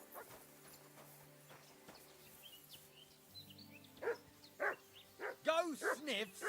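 Dog barking in the video game Tails of Iron 2, starting quietly under a musical score and turning into a string of louder, closer barks and yips toward the end.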